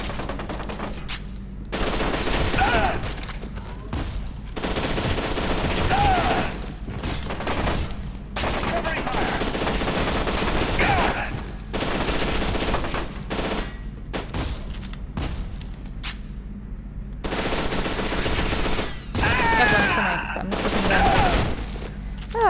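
Sustained bursts of automatic gunfire in the video game F.E.A.R. 2: Project Origin, loud rapid volleys repeating with short pauses between them throughout.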